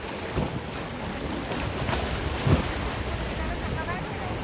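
Sea waves roll in and break along a rocky shore where people gather shellfish, a continuous surging wash with heavy wind buffeting the microphone and one sharper thump midway.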